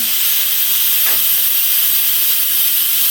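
An Instant Pot venting steam after its pressure valve is popped open, giving a loud, steady, close hiss that runs unbroken for the whole stretch with no one speaking.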